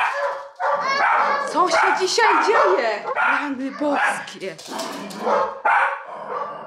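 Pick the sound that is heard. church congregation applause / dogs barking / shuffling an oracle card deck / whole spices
dogs barking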